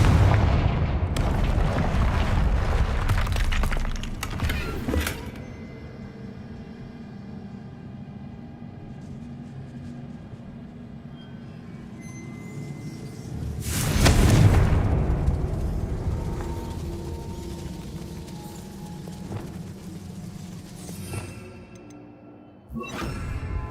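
Confringo and Bombarda spell blasts in the Hogwarts Legacy game, with booming explosions, the loudest bursting near the start and a big blast midway, followed by long rumbling decays under a steady game backdrop.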